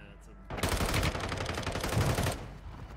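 Rapid automatic gunfire in the mobile battle royale shooter Warzone Mobile, set in Verdansk, bursting in loud and close after a quiet half second and hammering continuously for about two seconds before cutting off.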